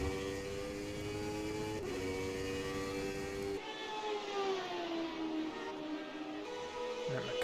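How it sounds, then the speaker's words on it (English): A McLaren F1 engine in the rFactor 2 racing game, classic F1 championship at Magny-Cours: a loud, sustained high-pitched whine that shifts pitch as the car changes gear and speed, with no talk over it. "And the McLaren engine screaming away."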